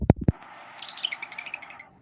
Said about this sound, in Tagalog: Ibon kong makulit.